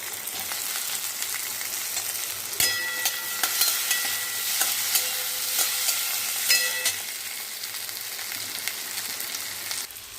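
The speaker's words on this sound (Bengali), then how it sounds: "ছোট্ট করে একটা পেঁয়াজ দিলাম, এবার একটু টমেটো কুচি দিলাম" Onion and chopped tomato fry in a pan with a steady hiss, broken by a few bright metallic clinks and scrapes of a stirring spoon against the pan.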